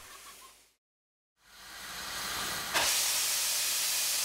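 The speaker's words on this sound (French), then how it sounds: "Les purgeurs permettent d'évacuer l'eau accumulée dans les cylindres." Cylinder drain cocks on a large steam locomotive, a Mountain-type engine in France, venting steam in a loud, steady broadband hiss that builds up after a short silence and then swells sharply into a stronger blast.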